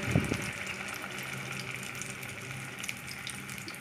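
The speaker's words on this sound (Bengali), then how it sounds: "এবার তেলটা গরম হলে একটা করে ছেড়ে দিলাম।" Fish kebabs are dropped one at a time into hot oil, giving a steady, close, broadband sizzle that holds evenly throughout with no talking.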